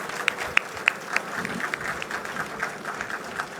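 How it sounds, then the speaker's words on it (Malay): Scattered clapping from an audience at a road campaign launch event in Pulau Pinang, sharp individual claps over a steady crowd murmur, moderately distant. "saya tengok Awi pun tepuk tangan hari ni"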